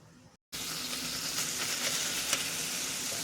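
Ground beef sizzles and fries steadily in a pan, a dense continuous crackle close by with small pops, starting abruptly after a brief quieter moment.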